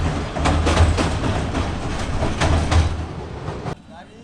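A train rumbles across the Kawraid-Goyeshpur rail bridge toward Dhaka, wheels clattering in a steady rhythmic clack up close and loud before cutting off abruptly at the end, with a voice talking over it.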